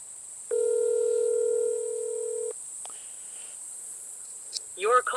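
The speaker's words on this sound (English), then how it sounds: "I'll put on speaker, that way you guys can hear it calling." A phone on speaker, placed inside a homemade Faraday can, gives a single steady two-second ringback tone, followed by quiet clicks and then the start of a voice.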